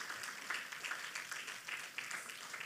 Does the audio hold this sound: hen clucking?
no